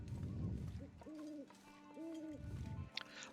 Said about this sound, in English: is it me or are the owls much louder than they used to be?